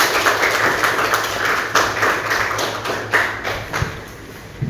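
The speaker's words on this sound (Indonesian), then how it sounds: "Tepuk tangan untuk kita semua anak-anak" Schoolchildren in a classroom clap their hands together, a brisk run of sharp, fairly close claps with uneven rhythm lasting several seconds.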